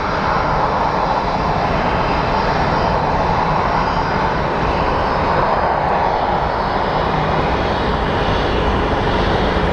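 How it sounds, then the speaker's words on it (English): A JSX jet comes in to land at Phoenix Sky Harbor airport, its engines producing a loud, steady roar that fills the whole stretch with a broad, constant rumble. "here comes our Jet Suites X, or JSX as it's known, coming in for a landing"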